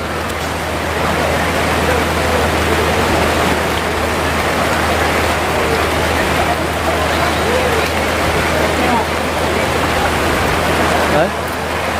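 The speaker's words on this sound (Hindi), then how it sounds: "बिल्कुल पानी चालू हो गया" Water runs steadily at a pandal during a religious gathering, a dense, constant rushing hiss like heavy rain or a stream, loud and unbroken throughout, with faint voices mixed in.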